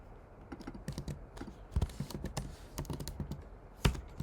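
Fingers typing on a computer keyboard, a quiet, irregular run of soft key taps with a few sharper, louder strikes scattered through it and no talking.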